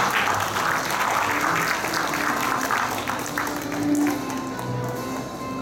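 Audience applause at a kindergarten graduation ceremony as a graduate representative receives a diploma from the principal; steady, dense clapping fills the room throughout, with a faint background voice.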